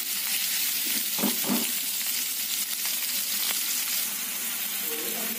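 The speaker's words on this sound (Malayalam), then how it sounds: "ചെറു തീയിൽ വേണം ട്ടോ നമ്മൾ ഈ ചെമ്മീൻ ഒന്ന് ഫ്രൈ ചെയ്ത് എടുക്കാനായിട്ട്" Prawns frying over low heat in a pan, giving a steady close sizzle with occasional stirring and scraping, heard alone without talk.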